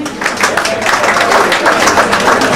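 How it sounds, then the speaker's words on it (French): A crowd at a Congolese cultural event in Belgium applauds for Brazzaville, a loud, dense and continuous clapping with a murmur of voices mixed in. "Applaudissez pour Brazzaville."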